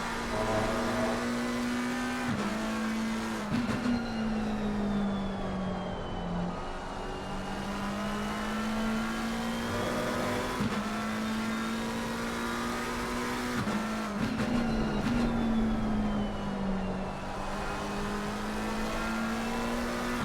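Race cars, including a Ford Mustang, lap Watkins Glen in a racing video game: a steady, loud engine drone that dips and rises with gear shifts and passing cars over about twenty seconds, with no talk.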